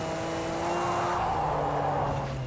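A car in the Assetto Corsa racing game slides under the handbrake, a steady engine drone with a rising tire-scrub hiss building in the middle and easing off.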